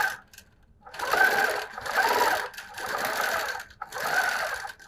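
A sewing machine stitches a free motion zigzag in four loud rapid bursts, each a close whirring chatter separated by short pauses.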